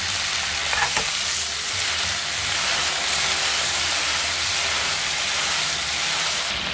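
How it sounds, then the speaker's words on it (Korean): Water goes into a hot pan with garlic and convenience-store rice for a creamy risotto. It sets off a loud, dense, continuous sizzle that stays strong throughout, close up and with no talking over it. "물을 넣어주세요."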